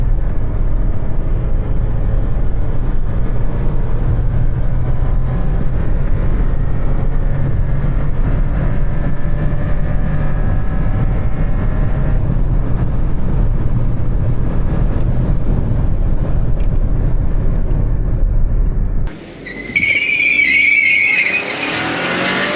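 A VW Virtus 1.0 200 TSI drives by with a loud, steady engine drone and road roar, which breaks off abruptly near the end into a different, thinner noise.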